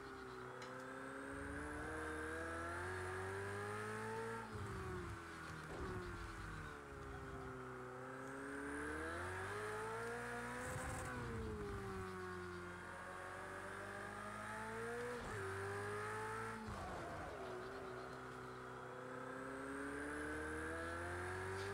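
A Ferrari race car laps a track in the Project CARS 2 racing game, its engine revving up and down continuously through gear changes, loud and steady throughout with no talk.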